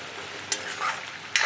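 Chicken pieces for chicken korma fry in a little oil, a continuous close sizzle with a couple of sharp stirring scrapes.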